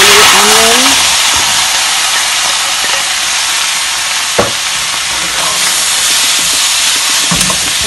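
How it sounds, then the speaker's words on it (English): Smoked herring stews in a hot pan with onion, giving off a loud, steady hiss and sizzle with occasional soft stirring scrapes and a clack. "Now for the smoked herring, I'm gonna just stew it a little bit."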